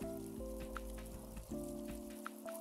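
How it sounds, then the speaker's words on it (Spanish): Rain falls steadily in the Latte Stand Tycoon video game, a soft, continuous patter under faint tonal game sounds and occasional light clicks. "Aguantemos la lluvia que viene"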